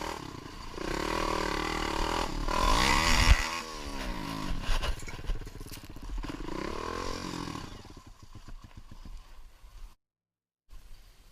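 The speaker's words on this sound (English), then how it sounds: "riding his ATV on an unnamed trail" ATV engine revving loud and close while riding along a forest trail, rough roaring bursts rising and falling in pitch before the noise thins out and cuts to a brief silence.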